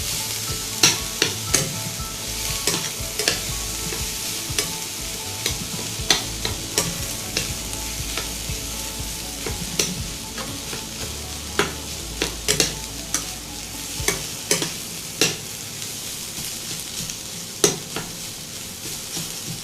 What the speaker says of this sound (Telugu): బాగా బ్రౌన్ కలర్ వచ్చినంత వరకు మనము వేయించుకోవాలి